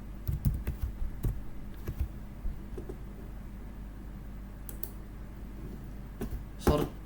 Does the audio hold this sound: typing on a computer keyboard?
yes